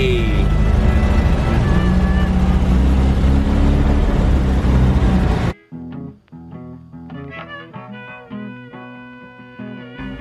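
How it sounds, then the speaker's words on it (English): A vintage van engine running, a loud rough idle for about five seconds that then cuts off sharply, followed by clattering, knocking and talking in a quieter space. "Van started up relatively well, as you guys saw."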